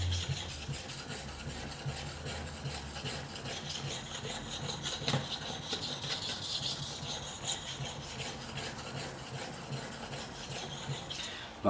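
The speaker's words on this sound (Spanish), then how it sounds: "mientras voy girando, estoy afilando la parte de la punta" A Böker Magnum rescue knife is stroked back and forth across a whetstone, with steady, close raspy scraping and rubbing that runs continuously and evenly throughout, no voices present.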